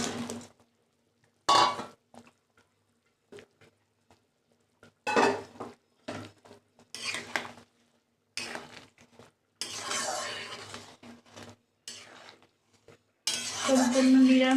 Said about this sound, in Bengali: এবার বড়াগুলো দিয়ে দেবো।